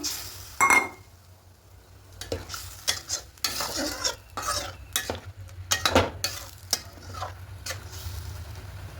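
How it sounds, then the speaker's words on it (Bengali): A spatula scrapes and clinks in a pan as fried eggs are stirred into masala, in irregular bursts over a faint sizzle, with no voices. "এবার সব কিছু খুব ভালো করে মিশিয়ে নেব এবার এখানে ভেজে রাখা ডিমগুলো দিয়ে দেবো"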